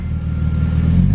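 A Honda S2000 with a MagnaFlow exhaust gives a brief, loud, deep-toned rev close by, a low rumbling engine note rising slightly.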